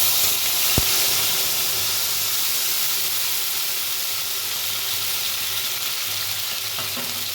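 Paste of ginger, cumin and green chilli sizzles and hisses steadily in a hot pan with bay leaf, a dense, close frying roar broken by one sharp tap near the start, with no voice.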